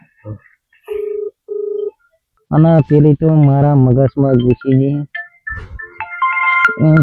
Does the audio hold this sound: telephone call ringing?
yes